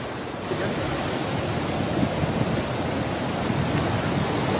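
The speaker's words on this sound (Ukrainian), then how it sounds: "Так, народ, це Атлантичний океан." Atlantic Ocean surf on a black-sand volcanic beach in the Azores makes a steady, dense roar of breaking waves and wind, loud and continuous with no voices.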